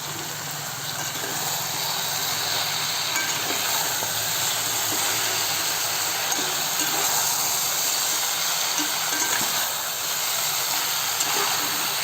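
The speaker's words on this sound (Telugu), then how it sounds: "ఒక 10 నిమిషాలు ఈ నూనెలోనే బాగా మనము ఫ్రై చేస్తున్నామంటే" Goat head meat for a Telangana-style curry fries in hot oil, giving a steady, dense sizzling hiss that holds evenly for about twelve seconds with no one speaking.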